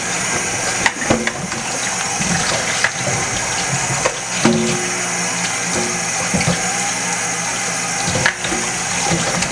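Tap water runs hard and steadily while ground provisions are rinsed at a kitchen sink, a loud continuous gush with occasional clunks and knocks of the food and pot against the basin.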